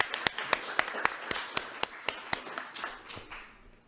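A small group claps at a Ramadan quiz award ceremony in Toronto, with about a dozen distinct, evenly spaced claps, moderately close, that fade toward the end.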